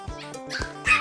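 Dogs at a rural farmstead bark close by, three or four quick, sharp yaps packed into about a second.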